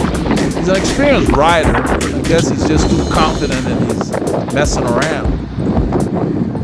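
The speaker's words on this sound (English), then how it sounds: "It's windy." Wind rushes over the microphone during a group road bicycle ride, a steady loud roar under continuous conversation.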